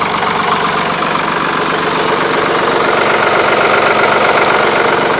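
A Ford 3910 tractor engine runs close by with a loud, steady, throbbing diesel rumble that carries a rapid knocking pulse and never changes pace.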